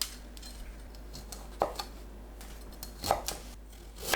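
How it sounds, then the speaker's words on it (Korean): Washed broccoli is cut into bite-size pieces on a board, a few sharp knife chops landing irregularly among quieter taps and rustles, close by, with a low hum running underneath. "씻은 브로콜리는 한입 크기로 썰어주세요."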